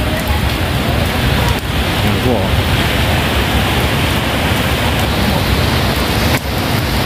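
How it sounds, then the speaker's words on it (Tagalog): Heavy rain pours down by the sea during rough weather, a loud steady roar of falling water filling the scene, with a brief voice heard over it. "ang lakas ng ulan"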